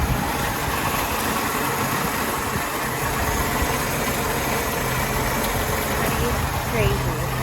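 A 1938 Plymouth Deluxe Coupe engine idles just after starting, a quiet, steady low rumble with faint mechanical ticking, continuous and close throughout, with a voice speaking over it.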